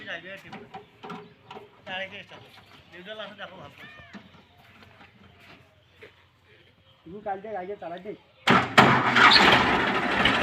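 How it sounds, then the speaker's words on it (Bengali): A 2022 Eicher 557 tractor with a 3-cylinder, 57 horsepower engine cranks and catches near the end, giving a loud, broadband burst that follows a stretch of people talking. "গাড়িটা স্টার্ট দাও তো।"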